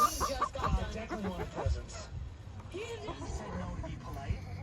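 Farm chickens cluck and murmur near at hand while a person talks over them, the soft bird calls scattered through the scene.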